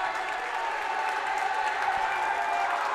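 Home crowd cheering and applauding at a boys high school basketball game after a step-back three-pointer, a steady dense roar of many voices and clapping filling the gym at moderate loudness throughout.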